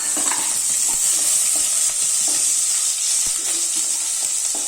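Finely chopped ginger and garlic sauté in hot oil for chilli chicken, giving a constant, fairly loud hissing sizzle with faint occasional stirring clicks.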